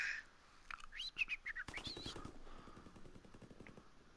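Gunfire in the video game Call of Duty WWII, with a quick burst of rapid shots partly mixed with chirpy game sounds, faint and distant, no talking.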